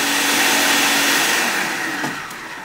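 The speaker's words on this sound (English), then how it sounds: "Using the food processor on high." A food processor runs on high, blending a raw food mixture for nori rolls in a steady, loud whirring roar that eases off slightly toward the end.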